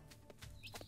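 A chicken in the survival crafting game Clanfolk gives a few soft, brief clucks at low volume, heard alone with no talking.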